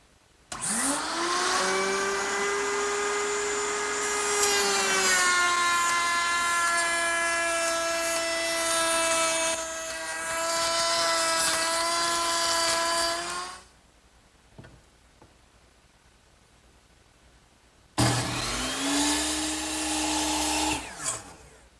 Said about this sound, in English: I'm going to use the same cutter that I used to make this edge on the top. I've got it set up in my router table